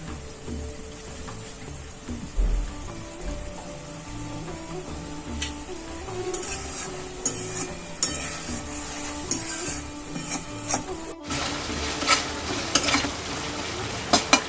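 Spice paste cooking down with plenty of water in a pan for a sour-spicy fish curry, giving a steady low sizzle and bubbling with repeated scraping stirs that grow busier toward the end, no voices.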